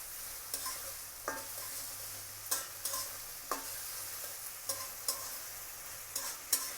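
Potatoes and small shrimp stir-fried together in a pan, a soft steady sizzle broken by several distinct spatula scrapes and clacks spaced through the stretch, fairly quiet and with no talking.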